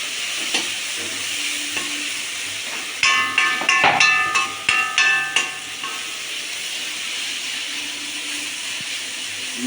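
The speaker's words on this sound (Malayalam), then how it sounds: "നല്ലതായിട്ട് ഇളക്കി കൊടുക്കുക." A spatula stirring upma with mixture in a hot pan, a continuous sizzling hiss broken midway by a burst of rapid metallic scrapes and clanks against the pan.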